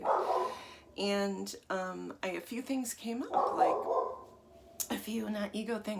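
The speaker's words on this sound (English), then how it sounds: "sorry if you hear my dog barking" A pet dog barking indoors in short sharp yaps and bow-wows, mixed in with a person talking steadily close to the microphone.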